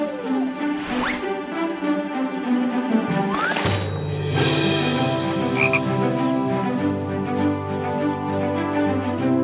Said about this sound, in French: une grenouille. Les grenouilles vivent dans les étangs.